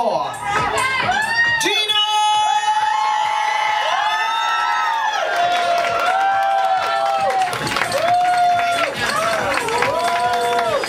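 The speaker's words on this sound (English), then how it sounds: "Give a big round of applause for" A crowd at the Miss T Girl Birmingham 2010 pageant heat cheers and whoops loudly for a placing, with shrill shouts and a name called out over a constant wall of audience noise.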